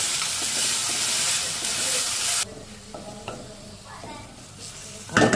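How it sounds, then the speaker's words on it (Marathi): Ginger, chili and garlic paste fries with onions in a pan, starting as a loud, dense sizzle that drops suddenly to a quieter crackle with scattered stirring scrapes, then swells briefly again at the end. "आता आपण ह्यात टाकू आलं मिरची आणि लसूणची पेस्ट"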